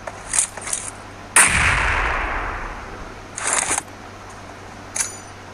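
Gunshots ring out in a PUBG Mobile match: a couple of quick shots, then a loud blast with a long decaying rumble, followed by further short bursts of fire spaced out across the clip, with no talking.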